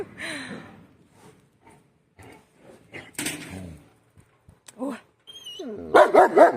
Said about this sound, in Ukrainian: Тільки я хочу щось зняти і ти вже гавкаєш.